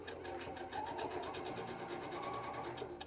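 A sewing machine stitches through cork and vinyl in a steady, continuous mechanical whir with rapid needle clatter, close and fairly loud, running the whole time with no talking.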